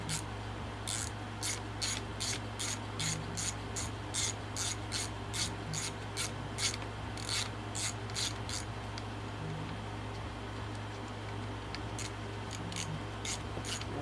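A ratchet clicks in quick repeated bursts while loosening nuts during a teardown of a Stihl MS271 chainsaw on a shop bench, faint and steady with a low hum underneath.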